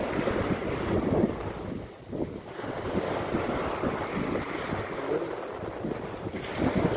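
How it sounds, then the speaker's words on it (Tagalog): Slightly rough sea waves surge and wash continuously with gusty wind buffeting the microphone, a steady loud rumble of surf with no talking. "Medyo maalon-alon."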